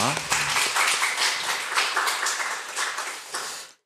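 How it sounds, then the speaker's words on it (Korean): A church congregation at a Sunday service claps in thanks after a hymn, a burst of close, dense clapping with a voice briefly at the start, tapering off toward the end. "아름다운 찬양에 감사를 드리며 박수 한번 하겠습니다"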